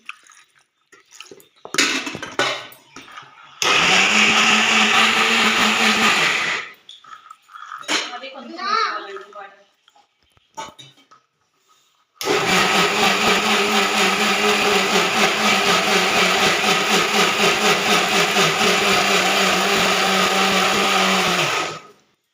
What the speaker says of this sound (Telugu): అందులో మిక్సీ పట్టుకోవాలండి